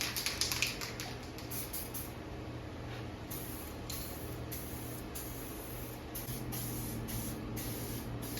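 Spray primer goes onto a scuffed-up new dash for a Lark car in a string of short, hissing bursts. The bursts are separated by brief pauses, and a low steady hum runs underneath.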